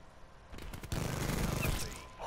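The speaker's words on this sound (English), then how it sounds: "Why would you put rapid fire in a gun that already shoots really fast?" Rapid-fire gun shooting in the Call of Duty Black Ops 4 video game, a fast burst of shots over busy game noise, fairly quiet overall.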